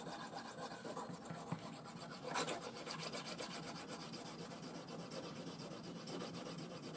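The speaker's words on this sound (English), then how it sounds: "I'm going to do it a little bit harder to get rid of these burrs" A blade is drawn firmly across a banded jasper whetstone to remove burrs, giving quiet, close, continuous rasping strokes in an otherwise still setting.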